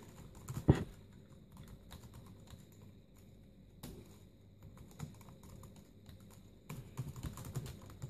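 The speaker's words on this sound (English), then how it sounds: "I can type quite easily and edit." Typing on the keyboard of a Compaq Armada 4131T laptop in MS-DOS: soft, sparse key taps with occasional louder clicks, quiet and close, with no talking.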